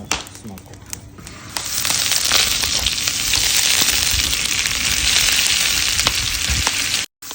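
Loud, steady sizzling of meat frying in butter in a hot pan outdoors, crackling continuously after a few clinks at the start, then cutting off abruptly.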